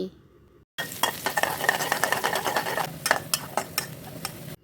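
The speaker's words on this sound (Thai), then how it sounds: "เดี๋ยวเรามาเจียวกระเทียมกัน" Garlic sizzles in hot oil after a brief quiet start, a close crackling fry with rhythmic stirring clicks and scrapes of a utensil.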